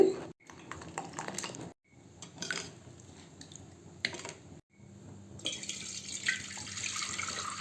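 Jaggery and milk mixture being strained through a filter while making sweet junnu, giving a soft trickling, pouring liquid sound with faint clinks of utensils and a few brief pauses.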